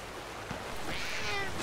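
Cat in Red Dead Online letting out one short meow, set against a constant background hiss, with no talking.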